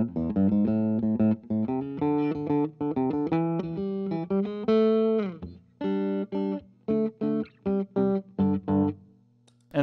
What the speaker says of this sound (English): And then let's do some chorus.